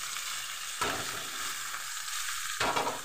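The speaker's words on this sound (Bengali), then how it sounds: "এবার দিয়ে দেবো আমি কুচিয়ে রাখা পেঁয়াজ।" Chopped onions drop into hot oil in a home chicken curry pan, bursting into loud, steady sizzling with two sharper surges of frying as they hit and are stirred, no voices.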